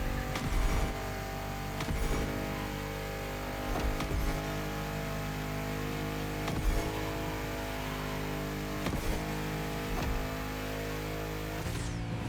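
Race car engine in The Crew Motorfest, a continuous loud drone with periodic swells as the revs rise and fall through a drift turn, alone without talk.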